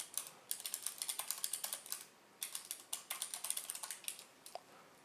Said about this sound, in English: For example, let's type a message.